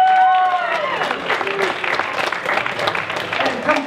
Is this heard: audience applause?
yes